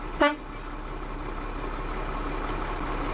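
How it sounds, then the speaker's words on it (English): A truck horn gives one short, sharp toot at the start, then a steady, close diesel engine idle fills the rest. "I have a city horn, I have country horn"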